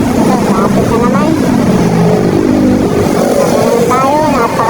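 Motorcycle weaving through heavy traffic on the road from Carmona to Cavite, with a continuous engine drone and road rumble throughout and someone talking over it.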